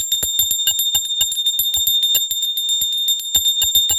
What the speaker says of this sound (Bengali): আজকে নতুন ঘন্টা, তোমরা আওয়াজটা তো বুঝতেই পারছো, একটু অন্যরকম।